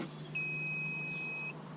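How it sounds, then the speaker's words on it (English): A single steady electronic beep from an Intex saltwater pool system turning on, clear and high-pitched, lasts about a second over a quiet low hum. "You hear that beep? That means it's turned on."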